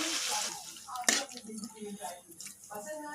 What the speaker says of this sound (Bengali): এখন আমি মধ্যে জল দিয়ে দিচ্ছি।